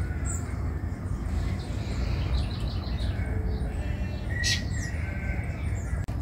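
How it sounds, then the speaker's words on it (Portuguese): Small birds chirp and call on a cloudy morning in a garden, faint scattered notes sitting over a steady low background rumble. "Os passarinhos estão cantando"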